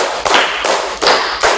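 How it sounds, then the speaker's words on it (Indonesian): A group of people clap their hands together in unison, several sharp, loud claps spaced evenly about every 0.4 seconds with no talking. "tepuk tangan 5 kali"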